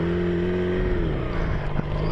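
A Yamaha R6 sport motorcycle with a modified, partly reassembled exhaust drones steadily while being ridden, its engine note holding a constant pitch that sags slightly, loud and continuous with no talking.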